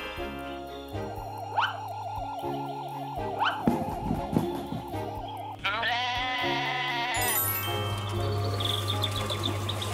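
Sheep bleating over loud, busy cartoon-style music, with wavering calls rising and falling and a siren-like tone near the end.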